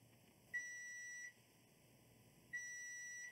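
Two short electronic beeps from a multimeter in continuity mode, probing the conductors of a cable. Each tone holds steady for roughly three-quarters of a second, with a pause between, clear over a quiet background.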